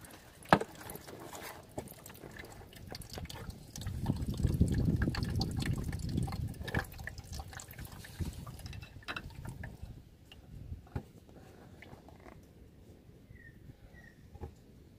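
Water and diesel drain from a Great Wall diesel fuel filter into a dish, a faint trickle and patter that thickens into a steadier flow midway and then thins out to scattered drips.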